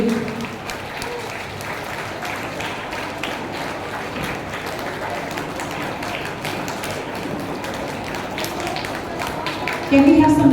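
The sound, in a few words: audience clapping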